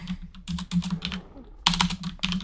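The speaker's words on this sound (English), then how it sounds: "I was typing." Typing on a computer keyboard in uneven bursts of clicking keystrokes, close and fairly loud, with short pauses between flurries over a steady low hum.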